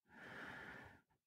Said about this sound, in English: just exhaling, breathing them out